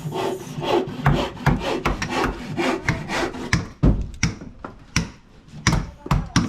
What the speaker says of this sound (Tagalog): Tumunog na ang lagari, gabas.